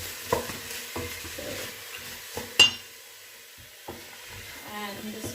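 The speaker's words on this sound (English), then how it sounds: "you just want to saute this off, the onion and garlic" Onion, garlic, mushrooms, celery and carrots sautéing in a pan, a soft sizzle under repeated close scrapes and stirs of a utensil against the pan, with one sharp metallic clink partway through and no talking.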